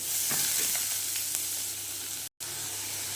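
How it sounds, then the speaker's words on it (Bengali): Chopped onions fry with whole garam masala and bay leaves in hot oil for rajma curry, a loud continuous close sizzle with faint stirring scrapes, briefly cut off near the end. "এবার দিয়ে দিলাম পেঁয়াজ কুচি। এবার পেঁয়াজটা দিয়ে ভালো করে কষিয়ে নেব।"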